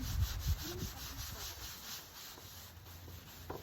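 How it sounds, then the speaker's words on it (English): A scraper sponge scrubs dirty, greasy kitchen cabinets in quick, repeated rubbing strokes. The sound is soft and close, with a few faint knocks and no talking. "And actually go back and scrub all of this, all the nooks and crannies and everything like that"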